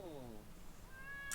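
A cat gives a short descending meow, followed by a brief higher mew near the end, over faint background noise.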